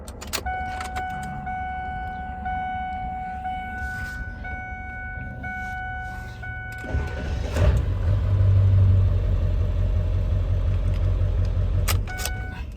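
With chimes and key clicks in a cab, a Ford 7.3 Powerstroke diesel with a new 6.4 starter cranks briefly, then fires into a loud, rough diesel rumble that settles to idle, close by with no speech.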